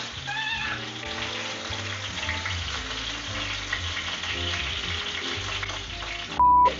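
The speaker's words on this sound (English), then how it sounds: "Let it sear on like one side for like, I don't know, 30 seconds." A steak sears in a hot pan with a steady, close sizzle and crackle that fills the whole stretch, broken near the end by a brief, louder tonal sound.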